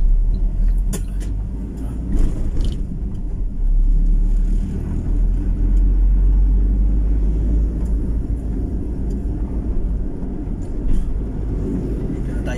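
Road traffic near the new City Hall in Bacolod City: a continuous low rumble of passing cars and buses with scattered clicks and knocks, steady and moderately loud throughout.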